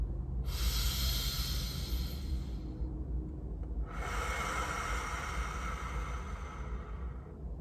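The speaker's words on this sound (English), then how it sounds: "and breathing out. Do it with me for a second." Two long, slow exhalations through the nose or mouth, each a broad airy hiss lasting a few seconds, close and steady with a brief pause between.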